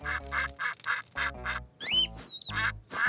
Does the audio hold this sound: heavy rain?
no